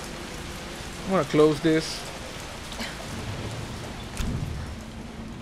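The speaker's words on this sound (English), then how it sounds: "Because it's raining heavily," Heavy rain in Resident Evil 3's Raccoon City: a steady, dense wash of rainfall runs throughout at moderate level, with a brief louder rumble near the end, while someone speaks briefly early on.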